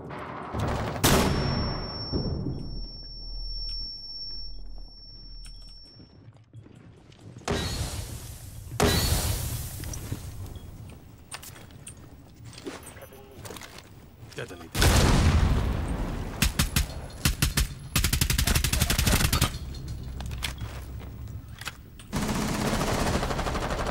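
Gunfire bursts from the game Rainbow Six Siege, sharp repeated shots and automatic bursts coming in clusters with loud peaks, mixed with game ambience while players talk over it.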